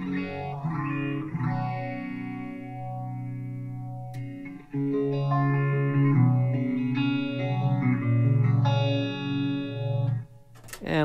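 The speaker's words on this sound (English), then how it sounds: "let's hear a phaser" Electric guitar through a phaser effect on an Axe-Fx rig, its tone sweeping up and down in slow whooshing waves over sustained notes and chords, played clearly and alone.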